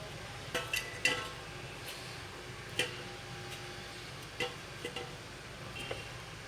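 Soft clinks and taps of mini appams being lifted one by one from a pan onto a plate in a home kitchen, a few light metallic ticks spaced apart over a quiet background.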